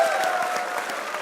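Steady applause from a crowd for Mohammad Amir, a dense continuous patter of many hands clapping at moderate volume throughout.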